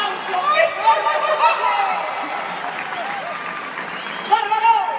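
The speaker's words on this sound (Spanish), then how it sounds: "¡Aplauso! ¡Bárbaro!" A concert crowd at the Feria de Chiapas applauds steadily and loudly for several seconds, with shouts and cheering voices mixed into the clapping and a fresh swell near the end.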